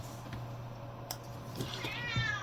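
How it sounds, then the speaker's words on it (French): A domestic cat meows indoors a couple of times, short and fairly close, over a steady low hum in a room where someone is opening a parcel. "qu'est-ce qu'il y a, mon chat?"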